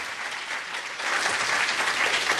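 An audience at a Los Angeles mayoral debate breaks into applause, a dense, steady clapping from the crowd that swells slightly louder partway through.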